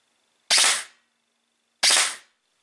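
An airsoft replica fitted with a GRIZZLY processor unit fires in full-auto mode: two short, loud, close bursts about a second apart, each a sharp crack trailing off quickly, with silence between and no talking.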